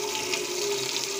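Steady rush of water pouring from a tap in a restaurant kitchen, continuous and close, with a faint hum underneath and no voices.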